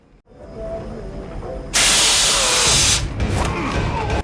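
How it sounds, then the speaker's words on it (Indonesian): A fire extinguisher in a tense scene from the film The Gray Man lets out one loud, sustained blast of hissing spray for about a second, then cuts off into rustling background noise. "langsung menyemprotkan pemadam api"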